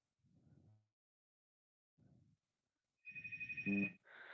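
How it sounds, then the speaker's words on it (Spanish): A telephone rings once, a short warbling electronic burst, after two faint low murmurs separated by silence, followed by a brief higher tone. "Bueno, ese fue el teléfono, pero sí sonó."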